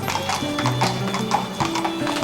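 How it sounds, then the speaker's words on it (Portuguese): A horse trots while pulling a tourist carriage through a historic Swiss town, its hooves giving an even, close clip-clop rhythm over a faint background hum. "Esse silêncio só é quebrado pelo trotar de um cavalo puxando uma carroça."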